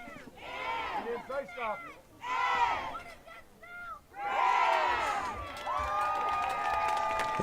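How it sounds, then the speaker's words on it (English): A crowd at an Arkansas 5A state tournament boys' high school soccer match, Lakeside vs. Van Buren, joins three small children in a loud rhythmic chant, with repeated bursts of young shouting voices rising over steady crowd noise. "it's actually 3 little kids at the front starting up a chant with the crowd"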